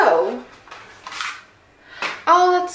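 Scissors snip at a new phone's box in a few short, crisp cuts and rustles, close up, with a pause between bursts.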